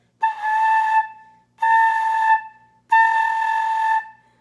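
Flute tones played with the lips pulled back: three sustained notes with bright harmonics, each about three quarters of a second long and separated by short silences, near and fairly loud with no talking.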